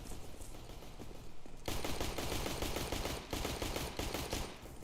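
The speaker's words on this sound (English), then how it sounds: "Why you shoot if you can't see him" Counter-Strike gunfire during a pro match final: faint shots at first, then a sudden loud barrage of rapid overlapping automatic rounds that keeps hammering for several seconds, with no voices.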